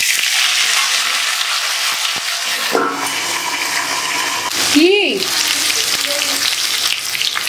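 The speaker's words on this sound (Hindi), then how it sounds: "तो पहले मैं ऑयल में जीरे का छौंक लगा दिया, अब मैं डाल दूंगी" Cumin seeds tempering in hot oil for a Bengali fish curry with pointed gourd, pumpkin and potato, a steady close sizzle running throughout with brief clatter of stirring and a short spoken word.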